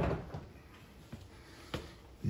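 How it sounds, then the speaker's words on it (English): Door of a GE gas stove oven being opened, a few soft knocks and clicks spaced over two seconds, close by and quiet, ending with a slightly louder thump. "you open the oven"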